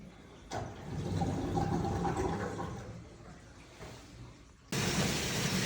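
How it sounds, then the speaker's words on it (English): Steady rushing water drains from a hose for several seconds, a broad hissing flow that stops briefly and then resumes louder near the end. "And that should start draining your hose then."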